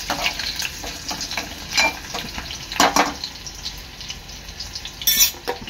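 Curry leaves and crushed garlic fry in hot oil for a pomfret curry, producing a crackling sizzle punctuated by sharp spits and stirring scrapes at close range.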